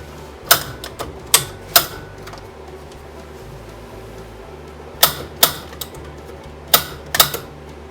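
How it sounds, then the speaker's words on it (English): A shop furnace igniter clicks sharply to light the pilot, a few irregular bursts of close, crisp ticks separated by short pauses, over a low steady hum. "let's fire the furnace up."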